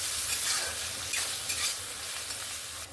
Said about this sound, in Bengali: পেঁয়াজটাকে দেখুন একদম সুন্দর লাল লাল করে ভেজে নিয়েছি